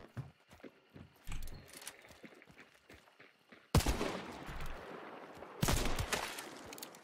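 Gunfire in a video game, with bursts of loud, close shots arriving in clusters, including a sustained barrage near the middle and another late in the clip.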